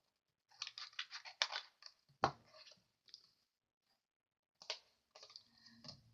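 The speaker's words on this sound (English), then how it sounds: "just going to trim that across the top." Cardstock being trimmed across the top with a paper trimmer, a quiet run of quick sliding cuts and clicks in short bursts, close up with silent gaps between.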